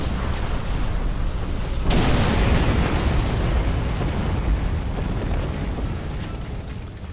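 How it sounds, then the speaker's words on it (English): Loud explosion from a quantum torpedo in the Star Trek Online space combat game, a broad blast erupting about two seconds in and rumbling on for several seconds over a dense, continuous roar of battle noise. "Quantum torpedoes."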